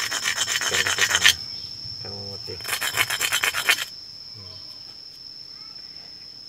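Natural stone rubbed hard against stone by a maker of stone mortars, heard as two loud bursts of rapid rasping strokes separated by a short spoken phrase, over a steady high insect-like whine.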